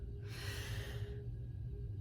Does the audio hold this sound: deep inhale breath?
yes